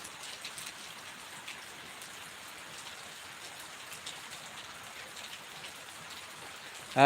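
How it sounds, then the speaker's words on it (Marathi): Steady rain falls with a soft, even patter of drops on surfaces, continuous and fairly quiet throughout. "पाऊस पाऊस बाहेर पडत आहे"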